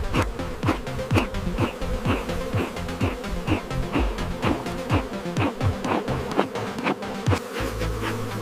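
Wild bees swarm around a jungle hive during a smoked honey harvest, their loud, steady buzzing filling the air with individual insects zipping close past in quick repeated passes.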